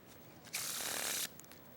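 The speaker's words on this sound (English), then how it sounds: "We'll give a couple more, this being shuffle number 3." Magician riffle shuffling a deck of playing cards, a single sharp burst of fluttering card edges under a second long, close and clear, followed by a light tap as the halves come together.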